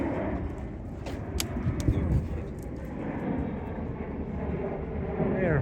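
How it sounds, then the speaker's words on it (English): An aeroplane passes overhead above the Thames riverside at Richmond, near London, a faint, steady, distant roar that swells slightly toward the end. "Aeroplanes about every 2 minutes,"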